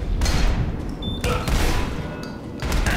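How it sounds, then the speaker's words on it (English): A grenade going off in the first-person shooter Ballistic Overkill, loud bursts and booms in quick succession amid continuous gunfire-like cracks. "Oh, I killed myself with the grenade."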